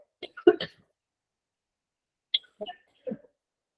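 A short burst of harsh coughs, followed after a pause by a few more quieter coughs, close and isolated in a silent room.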